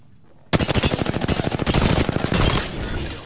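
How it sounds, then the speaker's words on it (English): An enemy squad opens fire in Apex Legends, sudden and loud: a rapid automatic burst of shots in fast rhythm, sustained for nearly three seconds and blurring into a dense roar of gunfire. "A second squad is firing on us."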